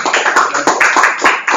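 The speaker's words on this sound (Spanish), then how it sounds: "uno un fuerte aplauso a la palabra del Señor" Congregation clapping in a church service, a short burst of dense, fairly loud applause with irregular hand claps that rise and fall over a second and a half.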